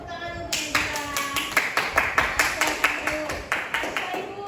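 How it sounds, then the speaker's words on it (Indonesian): A classroom gives a round of applause for a pupil during a lesson, a few hands clapping in a loose, uneven rhythm close by for several seconds, with faint background chatter. "beri tepuk tangan untuk Nabila."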